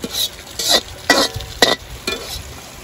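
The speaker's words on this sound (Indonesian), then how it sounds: "Goreng telur." Eggs fry in a pan for an omelette for Indonesian nasi kuning, with a steady sizzle under repeated scraping and stirring strokes of a utensil against the pan, close and fairly loud.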